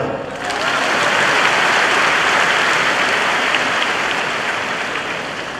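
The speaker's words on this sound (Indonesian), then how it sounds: "Tepuk tangan dong." A lecture audience at a university general lecture breaks into dense, sustained clapping that swells quickly and holds for several seconds before easing slightly, loud and close with no voices over it.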